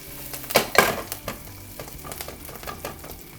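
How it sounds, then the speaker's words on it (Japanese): Spinach stems are stir-fried in bacon and garlic oil, with a couple of sharp stirring scrapes in a pan early on followed by a quieter, crackling sizzle and soft clatter of utensils. "このベーコンとニンニクの美味しいオイルをですね、このほうれん草にまとわせて炒めていきます。"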